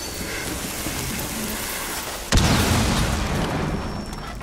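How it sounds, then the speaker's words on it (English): An explosive detonated in Rainbow Six Siege, heard as a single sudden loud boom that cuts through steady background noise partway through, followed by a rumbling, crackling tail. "and then detonate it, so he'll run."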